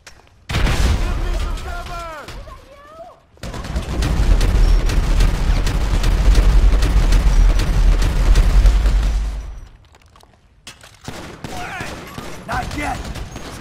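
A frag grenade goes off in GTA 5 as part of a long, loud stretch of gunfire and blasts that fills the middle of the clip. Shouting voices come before and after it.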